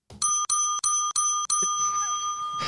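A bright ringing bell sound effect strikes five times in quick, even succession, each ding sustaining and overlapping into a long shimmering decay, loud and close with nothing else over it.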